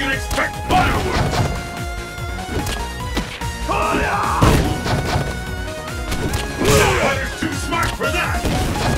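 Ultra Street Fighter IV match between Akuma and Ryu, with repeated smacking and crashing hit impacts layered over busy game music and effects, while an excited voice commentates throughout.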